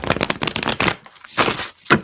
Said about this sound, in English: Let me shuffle this deck one time.